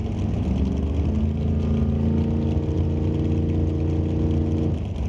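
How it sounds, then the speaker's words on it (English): Drag racing dragsters rumble loudly at close range as they roll up to the staging beams, their engines holding a steady, heavy drone before easing off at the end. "Another dragster pair up, pulling up to the staging beams."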